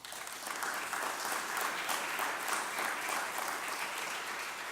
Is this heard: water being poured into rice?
no